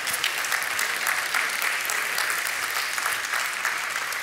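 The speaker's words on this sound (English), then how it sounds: "Come on, clap for him." A church congregation clapping during a Sunday service, a dense, even wash of many hands that holds steady and moderately loud for the whole stretch, with no talk over it.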